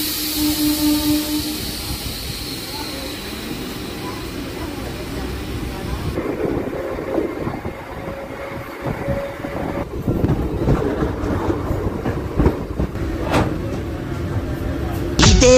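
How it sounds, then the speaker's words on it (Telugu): A Charlapalli–Tirupati special train runs on a newly built rail line, giving a steady rumbling roar that rises and shifts over about fifteen seconds, with a voice faintly present in the mix. "Cherlapalli Tirupati special train."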